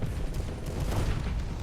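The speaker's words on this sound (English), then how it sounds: "with the Hellbore cannon, which is basically carrying me at this point" Hellbore cannon fire in the space combat game Starsector, a dense, steady stream of heavy booming shots and impacts rolling continuously at close range with no pauses.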